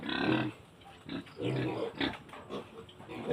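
A pen of twenty piglets grunting and squealing at feeding time, overlapping close grunts in uneven bursts, fairly loud, with no talk over them.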